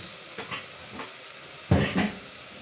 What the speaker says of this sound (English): So now at this stage What I'll do is I'll put in my vegetables that I boiled.